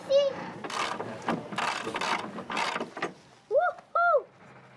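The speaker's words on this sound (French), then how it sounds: "On prend une douille de 22" A ratchet wrench fitted with a 22 mm socket used in a child's mock vehicle technical inspection: several close bursts of rapid metallic clicking, with a voice heard speaking between them.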